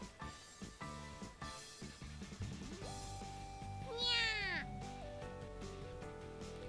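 A black cat meows in The Fruit of Grisaia visual novel, one clear drawn-out meow rising then falling, heard over soft piano background music.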